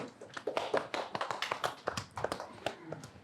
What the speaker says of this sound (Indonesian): Tepuk tangan dong, kita sambut Mas Solihun.